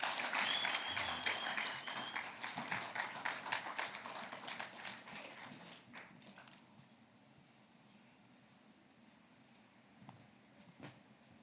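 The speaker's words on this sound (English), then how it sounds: "Another round of applause, please." An audience applauds at a ceremony in which Zimbabwe's president receives the Zimbabwe Bird sculpture from South Africa; dense clapping starts loud and thins over several seconds into scattered claps and quiet.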